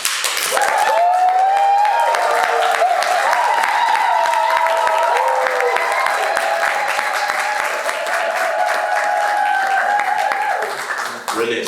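Conference audience clapping and cheering as a guest comes forward, sustained loud applause with whoops and shouts layered over it, while music tones ring underneath the whole time.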